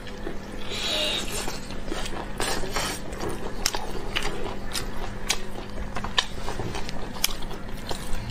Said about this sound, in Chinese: 挺好的小菠萝，非得咬一口。